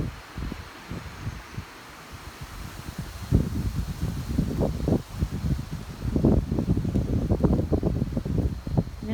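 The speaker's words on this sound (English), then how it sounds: "Got a little wind gust here." A wind gust rustles garden plants in a home garden on the Oregon coast in April, a fluttering, buffeting rush that swells and settles with mic wind noise, with no talking.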